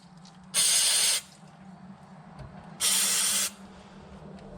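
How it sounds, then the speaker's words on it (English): Brake cleaner is sprayed onto a front brake caliper of a Subaru in two sharp hissing bursts, each about half a second long with a pause between, over a low background hum. "so brake clean this down a little bit."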